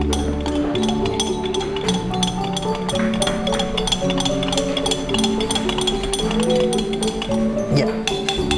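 A spoon stirs milk and water in a glass, making rapid, repeated metallic clinks against the sides in a quick steady rhythm, close and clear, with some talk beneath.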